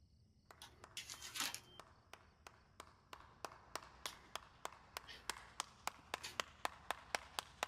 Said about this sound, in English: You hear clapping.